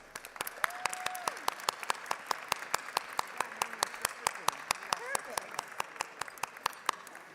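Sustained applause fills the Texas House legislative chamber, with many hands clapping in a dense, continuous patter that carries on for several seconds.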